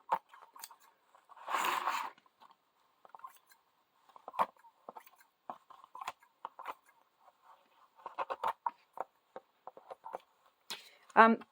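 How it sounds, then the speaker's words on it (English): Fabric scissors trimming quilt batting, with a few sharp close snips and scattered light clicks and rustles between them, quiet and intermittent with no voice present. "And we'll just trim this batting off."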